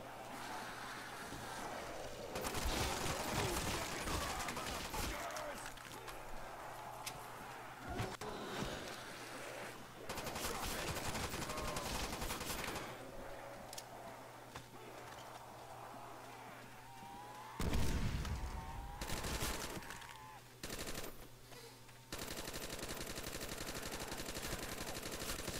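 Rapid gunfire bursts from a rifle in a Call of Duty Zombies game, loud sustained automatic volleys repeating across the stretch, with breaks and a low game hum between.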